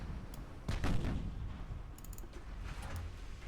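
Naval gunfire in the warship game Ultimate Admiral: Dreadnoughts: a heavy, booming shot lands near the one-second mark and rumbles away, with fainter distant thuds and metallic clicks after it over a low, steady battle drone.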